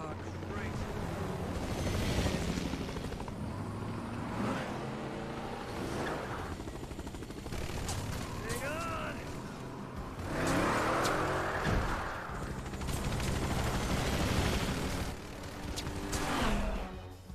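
Motorbike engine in the video game Resident Evil 6, a sustained loud roar that rises and falls as the bike is driven, with heavy bursts like gunfire or explosions and game voices mixed in.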